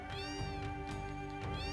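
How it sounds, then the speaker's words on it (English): Cats meow repeatedly in a cat-filled house in the Final Fantasy VII video game, a string of close, overlapping meows over a steady musical background. "Oh no, crazy cat house."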